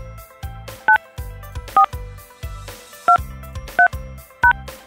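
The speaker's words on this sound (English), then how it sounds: "Please enter your passcode, then press hash." Telephone keypad DTMF tones entering a voicemail passcode: five short, loud beeps spaced about a second apart, each a paired-tone chirp, with a low rhythmic background between them and no speech.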